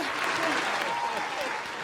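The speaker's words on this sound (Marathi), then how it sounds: "जोरदार टाळ्या त्यांच्यासाठी" A stage audience claps loudly for a judge being introduced at a show, dense continuous applause from start to finish, with someone speaking over it.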